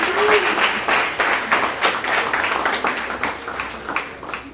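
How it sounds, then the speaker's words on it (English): Conference audience clapping together, a full round of applause with uneven swells and individual claps poking through, moderately loud and continuous with no talk over it. "Give them a clap, guys. Give them a clap."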